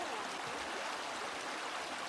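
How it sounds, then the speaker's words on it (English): Junction Creek in Tasmania's Western Arthurs flows in a steady, broadband rushing hiss that fills the whole stretch evenly and close by, with no breaks and no voices. "This is how Martin crosses Junction Creek."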